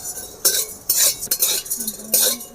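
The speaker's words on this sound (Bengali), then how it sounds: "অল্প লবণ দিয়ে দেব। ভালো করে ভেজে নিতে হবে।" A metal spatula scrapes and clinks against a pan in a few short strokes while spices fry with salt for vegetable chop, near and fairly loud, with faint quiet gaps between the strokes.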